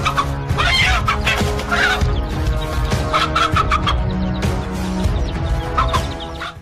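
A hen clucks in agitated, repeated bursts while defending her chicks from an eagle or hawk. The clucking is loud and close over a steady background hum, with no talking.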